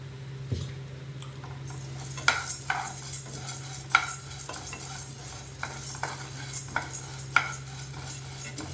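Food frying in a pan at home, a steady low sizzle with a constant hum beneath it and repeated sharp scrapes and clicks of a spoon stirring at irregular intervals.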